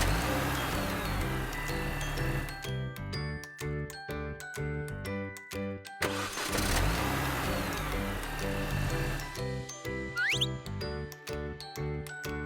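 A tractor engine effect in a kids' vehicle puzzle video game: a steady motor drone carries a bright, jingly musical loop with rhythmic plinks and a rising chime, continuous and alone with no voices.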